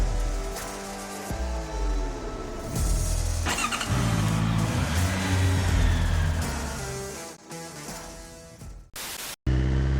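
Engine of a 2019 Suzuki GSX-R 1000 motorcycle pulling away, loud and continuous with rising revs through gears, then a brief cut near the end before it resumes.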